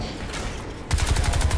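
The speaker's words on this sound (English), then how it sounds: "Stop shooting at me, you squid." Gunfire in the Crysis 2 shooter game against alien squids, a loud burst of rapid shots that suddenly cuts in after a rumbling stretch and keeps chattering in quick succession.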